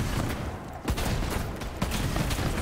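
A purple Torgue assault rifle fires in Borderlands 3, loud repeated heavy blasts over a dense noisy bed, with two sharper cracks standing out.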